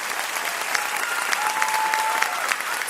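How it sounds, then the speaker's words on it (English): An applause sound effect plays as a steady, full wash of crowd clapping throughout a short stretch, with no talking over it. "I need a cue sound effects here. This I needs to know, be right? rigorous applause."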